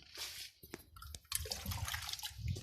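Water pours into a garden soil mix, a steady splashing, gurgling stream that starts after a few brief drips and continues close and moderately loud.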